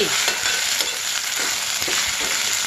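Ginger-garlic paste fries in a pan with onion pieces, a continuous bright sizzle and crackle, with a few soft stirring scrapes close by and no voices.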